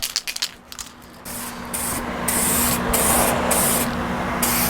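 A 2K clear coat aerosol can sprays a test burst from its nozzle. The close, loud hiss starts after a few handling clicks and holds steady, with several brief interruptions.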